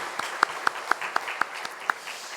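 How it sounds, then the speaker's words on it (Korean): Slow, fairly sparse clapping rings out in a church service, individual hand claps spaced about a quarter second apart, close and distinct rather than a dense crowd roar. "우리도 하나님께 영광의 박수를 드리겠습니다."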